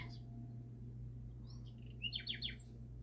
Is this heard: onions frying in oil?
no